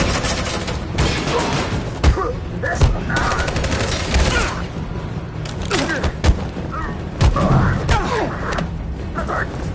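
Sustained fusillade of gunfire in a PS4 video game battle, with dense bursts and heavy booming thuds throughout, mixed under shouted voices.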